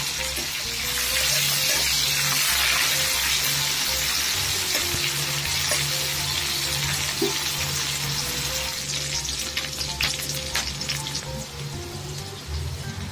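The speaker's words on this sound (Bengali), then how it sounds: "পেঁয়াজ দিয়ে দিলাম।" Onions frying in hot oil in a wok with cumin seeds, a dense, even sizzle held close and loud throughout, with a few light crackles near the end and no voices.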